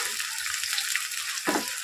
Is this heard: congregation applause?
no